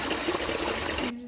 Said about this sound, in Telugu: ఇంకా వాటర్ పడతా ఉన్నాను నేనైతే